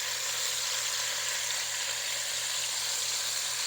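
Beef rouladen sears in a hot pan, giving off a loud, unbroken sizzle with a faint low hum beneath it.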